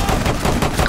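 Rapid, dense gunfire in Rainbow Six Siege fills a brief moment, a loud close burst of shots with no talk.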